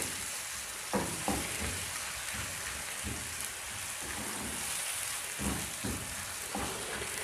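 Steady crackling sizzle of onion browning in butter in a pan, with a few louder pops and stirring scrapes along the way; no talking.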